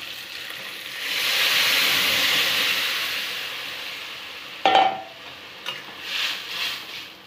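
Tomatoes frying in oil in a pan for a South Indian-style tomato chutney, a steady broad sizzle for several seconds, then a sharp stir or utensil knock and quieter intermittent sizzling bursts.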